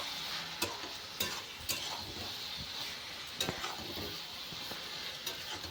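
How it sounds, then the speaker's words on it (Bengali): Bottle gourd and fried prawns stirred in a pan for lau chingri, a steady sizzle with several sharp clinks of the spoon against the pan scattered through, close and fairly quiet. "এটা দিয়ে আর চিংড়ি মাছটা দিয়ে একটু নেড়ে চেড়ে নেব"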